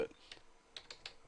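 Code is typed on a computer keyboard as a few quiet, scattered keystrokes, close but faint, over a low background.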